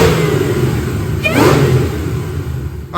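A 2008 Mustang GT500 with a Whipple supercharger and Detroit rocker cams revs hard on a dyno, its engine roaring loudly and rising in pitch before backing off.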